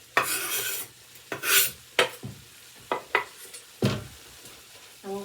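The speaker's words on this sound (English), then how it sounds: "So now we're going to get our onions and garlic in here." Onions and garlic frying with browned, drained hamburger meat in a pot for chilli, heard as repeated close scraping strokes of a spoon through a soft sizzle, with no one speaking.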